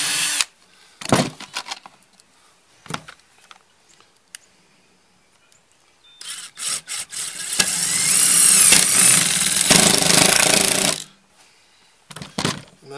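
A power drill pre-drills holes in metal studs: a few short whirring bursts, then a long loud sustained run with high screeching from bit on metal, followed by brief spurts near the end.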